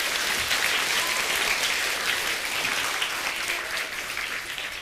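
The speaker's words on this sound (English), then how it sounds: "Give him a round of applause, guys." Dense audience applause fills a motivational talk venue, a loud, even wash of many hands clapping throughout, easing off gradually toward the end.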